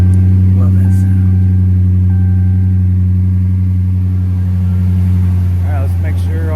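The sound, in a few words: Dodge Charger 5.7 engine running after water pump replacement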